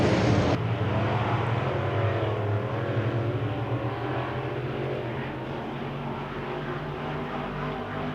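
Wissota Midwest Modified race cars roaring around a dirt oval in a heat race, a dense continuous engine drone from several cars at moderate distance, swelling and easing as the pack passes.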